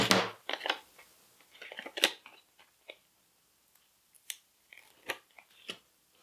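Scissors cutting through card stock strips for a Stampin' Up barn door card project, a few crisp snips spaced irregularly, close and fairly quiet with no talking.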